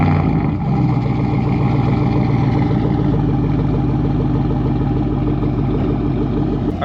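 A Chevrolet Silverado pickup fitted with a massive TSO exhaust tip rumbles steadily and loudly close by. The semi-warm idle is deep, continuous and even from start to finish.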